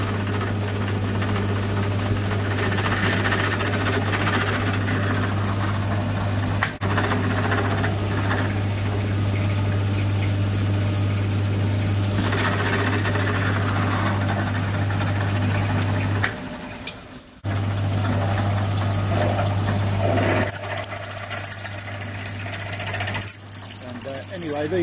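Drill bit boring into a brass rod just under 10 mm thick, a steady machine drone with a constant low hum and scraping cutting noise, then a brief stop and a rougher, rattling finish near the end.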